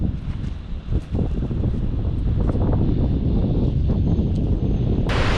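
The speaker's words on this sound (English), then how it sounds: "It's a bit windy" Strong wind at a beach buffets the microphone in a steady low roar with gusty rumbles throughout, and a hissy burst near the end.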